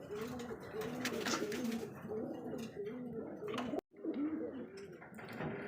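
Running pigeons cooing in repeated rolling coos close by, with a brief dropout midway before the cooing resumes, over faint background noise.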